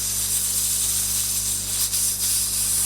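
A pressure cooker cooking spaghetti bolognese lets out a loud, steady hiss of steam that holds continuously with only brief dips.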